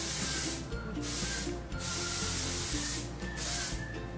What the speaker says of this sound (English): take the Living Proof Humidity Shield, and I will just spray this all over my hair